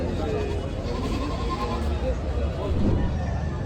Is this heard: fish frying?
no